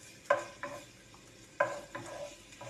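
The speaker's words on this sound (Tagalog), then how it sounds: "Unahin natin igisa ang bawang" Garlic sautés in a pan with faint background frying and soft, repeated scraping strokes of a utensil stirring against the pan, near and fairly quiet.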